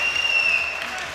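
A crowd at an amateur boxing championship at the Hermitage in Leicester claps and cheers steadily, a dense wash of applause with a voice speaking over it.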